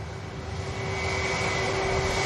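An aircraft engine roars at Manchester Airport, a loud, steady jet rumble with a sustained whine building slightly in intensity, heard alone without voices.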